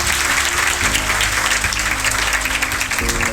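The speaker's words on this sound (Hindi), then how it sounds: "और उन माँ बापों के लिए भी जोरदार तालियां" Loud, dense applause from an audience at a rural coaching centre event, honouring a graduate's labourer parents, sustained and close with a faint hum beneath.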